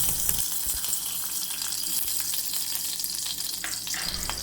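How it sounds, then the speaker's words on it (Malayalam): Ghee melts in a heated kadai, giving a soft, continuous sizzle and hiss with faint crackles, steady and close, with no talking. "അതിലേക്ക് നമുക്ക് കുറച്ച് നെയ്യ് കൂടി ഇട്ട് കൊടുക്കാം"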